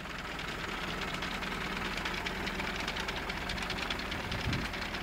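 A tractor engine runs steadily with an old baling machine hitched behind it, giving a continuous loud rumbling drone with a knocking, vibrating texture and no pauses.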